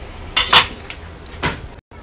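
A sharp kitchen knife chopping garlic cloves on a board: a couple of loud, close clacks near the start, then one more cut later, with quiet gaps between.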